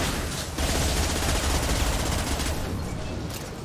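Sniper rifle gunfire and combat noise from the video game Mass Effect Legendary Edition form a loud, dense, continuous burst, with sharp cracks layered over a rumbling battle bed and a brief dip early on.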